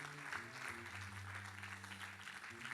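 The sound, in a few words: church congregation applauding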